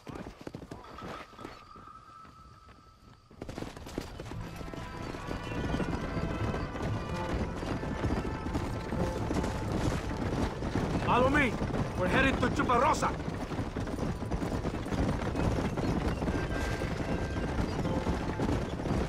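Horse hooves clip-clop at a steady gallop in the Red Dead Redemption video game, with snorts and a whinny, close and continuous beneath dialogue and an ambient game soundscape.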